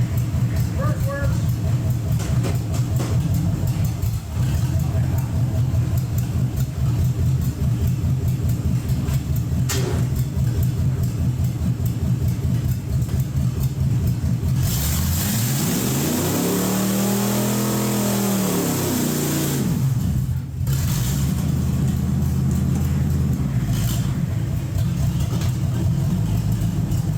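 A Jeep with a posi rear end revving hard and spinning both rear tires in a two-wheel peel, a loud steady engine roar that rises and falls in pitch before dropping back, with people talking over it.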